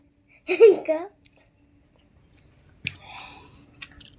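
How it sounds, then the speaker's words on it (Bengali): A child bites into small pieces of jicama, with a few crisp, wet crunching chews close by after a brief voice. "একটু শাকালু খাচ্ছে ছোট ছোট করে"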